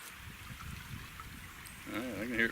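Water trickles and gurgles as a half-inch ram pump setup fills, a soft continuous flow that gains a louder bubbling surge near the end.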